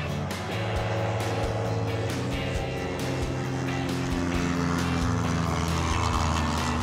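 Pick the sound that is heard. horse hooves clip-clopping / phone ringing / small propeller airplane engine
small propeller airplane engine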